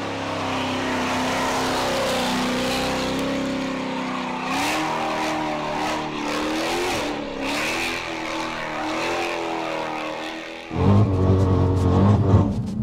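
Dodge Hellcat with an 800 bhp engine, revving in rising and falling pulls with a snarling exhaust, then bursting into a sudden much louder roar near the end.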